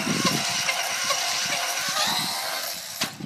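A Traxxas Stampede 4x4 VXL RC car on a 2S battery drifts and does burnouts, giving a steady whirring, scraping motor-and-tire noise close by, with a sharp click near the end.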